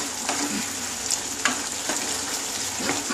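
Vegetarian pumpkin curry is stirred in a pan, with a continuous close sizzle and frying hiss and soft spoon scrapes every half second or so, and no one speaking.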